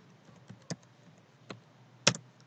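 A computer keyboard is tapped in a few separate, close keystrokes spaced irregularly over quiet background, with one sharper double press near the end.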